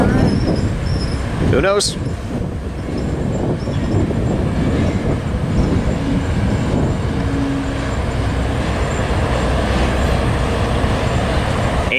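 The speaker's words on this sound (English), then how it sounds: "here's a eastbound with a stupid tier 4 3948 leading" An eastbound freight train led by Tier 4 locomotive 3948 rumbles past near Barstow, a loud continuous roar of wheels and cars with faint squeals, while a person briefly speaks over it.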